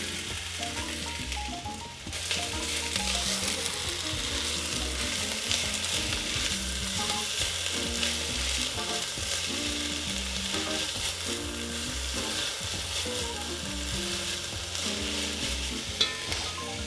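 Vegetables fry in olive oil in a soup pot over medium-high heat, a steady close sizzle with occasional stirring clatter running throughout.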